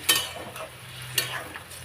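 Water poured onto frying vegetables in a hot pan sets off a close, hissing sizzle with two sharp bursts, then an ongoing crackle.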